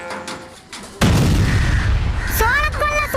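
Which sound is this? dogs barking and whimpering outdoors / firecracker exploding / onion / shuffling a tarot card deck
firecracker exploding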